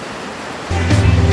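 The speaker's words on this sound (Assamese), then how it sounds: "বৰষুণে" Rain falls at a house being built in Kaziranga, a steady hiss that swells suddenly louder partway through into a heavier, closer downpour.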